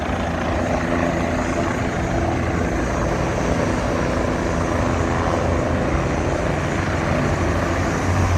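An airplane lands near a ferry route in New York City, heard as a steady, broad engine roar that stays loud and even throughout, with no talking.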